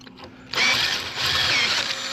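A Ryobi power drill bores into a metal disc for a quick hitch, starting abruptly with a loud, steady high whine that holds for about two seconds.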